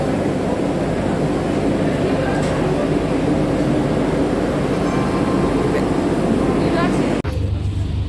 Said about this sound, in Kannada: ಪ್ರಯಾಗ್ರಾಜ್ಗೆ 6 ಗಂಟೆಗೆ ವಂದೇ ಭಾರತ್ ಟ್ರೈನ್ ಇದು.